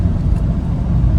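A 1980 Ford F100 pickup, back running after 29 years, accelerating down the road: a steady, loud low-pitched engine roar with dense rumble and no voices.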